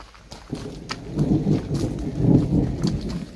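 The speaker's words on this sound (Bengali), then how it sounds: "বেশ মেঘ ডাকতে শুরু করেছে" Distant thunder rumbling low and rolling over a few seconds on a rainy hillside outing in Darjeeling, with faint rain patter and no speech.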